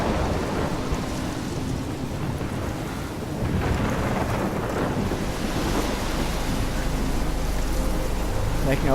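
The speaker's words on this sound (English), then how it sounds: "it is unbelievably stormy" Heavy thunderstorm in the Life is Strange video game on PC: steady, loud rain and gusting wind roar continuously near a lighthouse, with deep rolling thunder rumbling underneath throughout.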